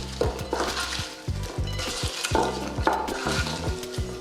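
Fennel apple salad with crushed red pepper and salt tossed in a bowl, giving a run of close, loud scraping and rustling bursts with light clinks of utensils against the bowl, repeated in uneven pulses.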